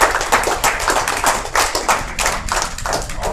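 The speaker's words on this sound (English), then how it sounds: "let's give a hand clap for that" Many hands clapping together in steady, overlapping applause, loud and close, filling the whole stretch without voices.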